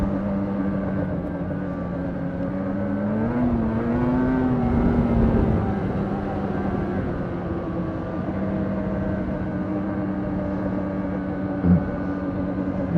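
A 2020 Polaris Switchback Assault 850 snowmobile engine drones steadily while riding, its pitch climbing and surging for a few seconds before settling back into an even, close-up hum.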